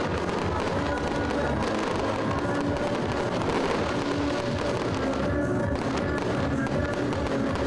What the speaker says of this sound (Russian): Фестиваль завершился большим фейерверком на площади Ленина.